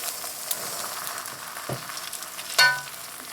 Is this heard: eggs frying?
yes